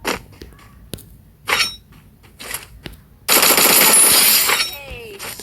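Bursts of automatic gunfire in a shooter video game, with scattered single shots and short rattles early on, then a long, loud sustained volley near the end with bright clinking shell-like tones.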